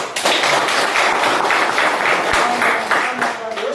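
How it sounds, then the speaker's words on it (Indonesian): Students applaud in a classroom, a dense burst of clapping that carries on for several seconds with a few voices mixed in. "Ya, tepuk tangan."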